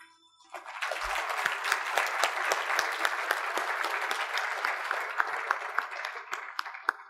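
Steady applause from an audience at the CES Mobile Apps Showdown, moderately distant, with scattered sharper claps throughout and no speaking.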